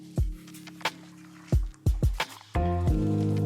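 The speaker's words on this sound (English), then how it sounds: "And pour over the broth." Liquid glugs and splashes as broth is poured into a dish, a few short bursts followed by a steadier pour at the end.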